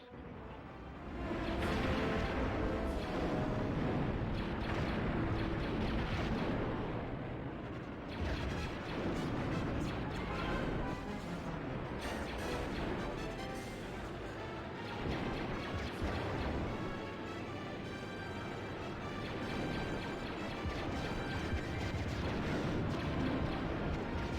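Dense, loud battle noise from the Nintendo 64 game Star Wars Episode I: Battle for Naboo, with continuous blaster fire and rumbling explosions running together for about twenty seconds and no talking.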